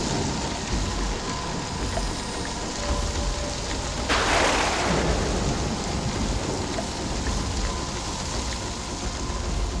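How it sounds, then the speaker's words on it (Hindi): Heavy rain pours in a steady dense hiss, with a sudden broad crash of noise midway that trails off like a thunder crack before the downpour continues evenly. "वहां तेज बारिश शुरू हो गई।"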